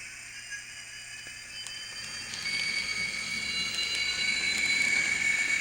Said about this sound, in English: so that was the sound of a brake.